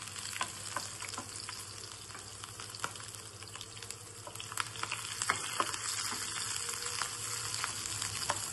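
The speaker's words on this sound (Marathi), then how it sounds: "जास्त तळून नाही घ्यायचा कांदा" Onions and chillies sizzle and fry in a pan, a continuous close crackling hiss with occasional stirring scrapes and clicks, no voices.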